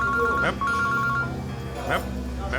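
A phone ringtone chirps in short repeating beeps while people talk over it nearby.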